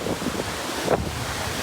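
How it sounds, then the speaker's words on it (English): Strong wind buffets the microphone aboard a boat anchored in Rangiroa atoll, a constant loud rushing roar with faint water sounds beneath and one brief higher gust near the middle. "So you probably can't hear this because it's really windy"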